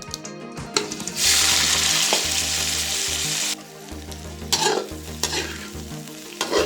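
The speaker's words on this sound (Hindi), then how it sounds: "अब इनको भी 4-5 मिनट तक अच्छी तरीके से फ्राई करेंगे" Vermicelli fries in the same oil used earlier for dry fruits, with a loud, dense sizzle. Scraping and clinking come from stirring in the pan, and the hiss drops and swells as the pan is worked.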